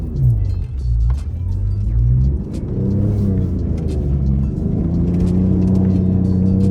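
A Ford Raptor pickup's engine revs on snow, a loud, close, steady rumble with rising and falling pitch as the throttle is pressed and eased, continuous throughout with no talk.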